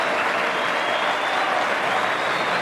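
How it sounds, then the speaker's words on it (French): A camp crowd of beneficiaries in Lualaba bursts into a dense, loud, unbroken roar of applause with crowd noise that holds steady throughout. "accueilli avec une pluie d'applaudissements et de cris de joie dans le camp des bénéficiaires"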